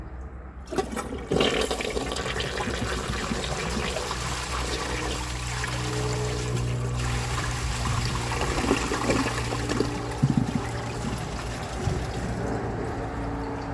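A 1981 Eljer Murray toilet flushing a dish towel: a loud, sustained rushing flush with gurgling and swirling water, continuing steadily and then trickling as the bowl refills.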